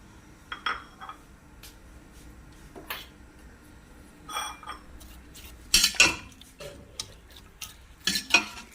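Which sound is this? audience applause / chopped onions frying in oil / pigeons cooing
chopped onions frying in oil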